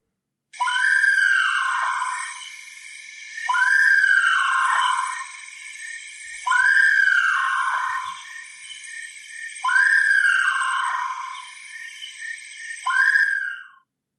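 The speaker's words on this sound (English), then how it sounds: "that was chirping crickets, and something was howling over those chirping crickets" Night chorus of chirping crickets forming a dense high buzz, while an animal lets out repeated long rising-and-falling howls or wails over it, about five calls spaced a few seconds apart.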